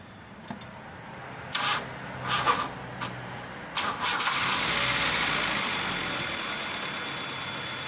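A Honda Civic that is hard to start even after a new battery, its starter cranking in several short bursts before the engine catches and settles into a steady idle, heard close with no talking.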